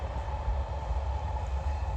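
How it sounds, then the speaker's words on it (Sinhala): A metro train runs near a bridge by an icy seaside, giving a low, steady rumble with a faint mechanical hum, moderately distant and constant, with no one speaking. "තියෙන මෙට්‍රෝ එක"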